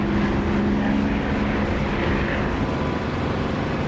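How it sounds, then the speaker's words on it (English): A propeller aircraft engine in the DCS flight simulator drones steadily and loudly from inside the closed canopy, a dense continuous rumble with a faint hum layered through it and no pauses. "it still sounds like a good engine, but it's just got that extra, like you can hear the prop wash and things"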